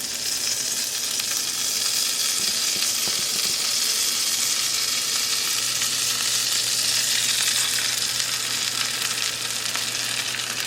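Pieces of Alaskan wild cod going into a hot pot for Caribbean fish chowder, giving a steady, loud sizzle and frying hiss that runs unbroken and close throughout.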